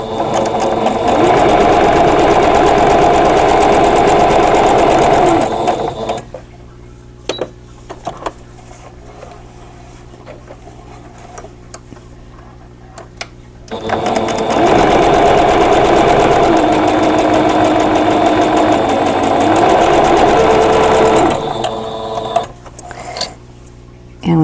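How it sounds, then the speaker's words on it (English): A sewing machine stitching quilt block squares, running in two long, loud, steady bursts close by, with a quiet pause between them and light handling noises. "I am going to sew a 1/4 inch away from both sides of this drawn line on the B and the D squares"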